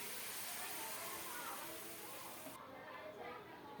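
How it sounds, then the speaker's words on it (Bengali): Boiled hot water is poured into a frying pabda fish curry in a pan. It sets off a steady, bright hissing sizzle that runs for over two seconds, then drops to a softer bubbling simmer. "এখন ফোটানো গরম জল দিলাম"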